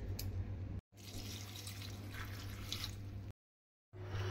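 A small splash of water is poured into a little pan of washed cauliflower leaves, a quiet, steady trickle that briefly cuts out twice.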